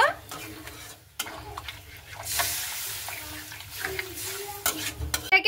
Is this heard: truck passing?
no